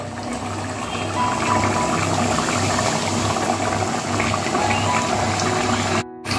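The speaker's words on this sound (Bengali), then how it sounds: "এবার আমি এর মধ্যে আলুগুলো দিয়ে দেবো।" A pot of salted boiling water bubbles and churns loudly and continuously as potatoes go in, the rolling boil steady before a brief dropout near the end.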